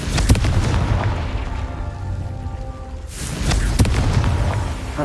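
A Confringo spell blast in the Hogwarts Legacy video game lands as a deep booming explosion with crackling debris, then a second heavy impact follows a few seconds later, loud and close.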